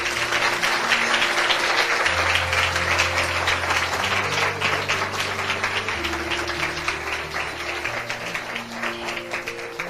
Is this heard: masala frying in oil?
no